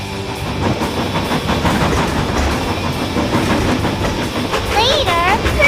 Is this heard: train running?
yes